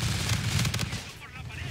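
Muffled rapid gunfire sounds in Call of Duty: Infinite Warfare gameplay, a dense low rumble of shots that fades within under two seconds.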